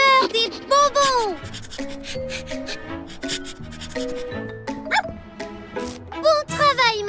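A cartoon dog sniffs along a scent trail in a quick series of short, breathy sniffs, mixed with playful animated yips and voices.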